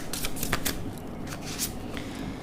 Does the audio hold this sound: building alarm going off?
no